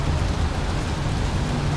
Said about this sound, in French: Mais bref, il pleut vraiment.